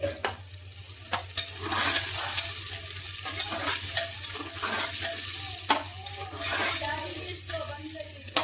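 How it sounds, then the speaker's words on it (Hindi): Chopped onions frying with whole spices in oil for a mutton dum biryani, a constant crackling sizzle punctuated by repeated stirring scrapes and knocks of the spoon against the pot, close up. "अब प्याज को हमें गोल्डन ब्राउन करना है"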